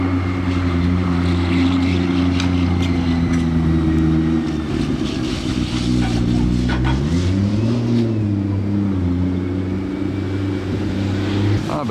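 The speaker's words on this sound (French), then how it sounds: "Ah bah maintenant après être passé derrière, elle passe devant. Ah, la McLaren P1," A McLaren P1 hypercar drives past in a street setting, its engine a loud, steady drone that rises and falls in pitch as it goes by, with other traffic around.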